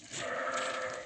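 A young sheep, one of several offered for sale in Kara-Balta, gives a single sustained, wavering bleat up close that fills about a second, with no talking.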